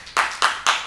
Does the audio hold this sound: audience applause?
yes